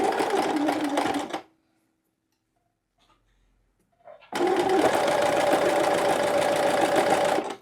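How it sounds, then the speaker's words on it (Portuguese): Near and loud, a sewing machine stitches a child's pajama seam with a small seam allowance in two steady runs split by a few seconds of near silence. "vamos lá passar essa costurinha"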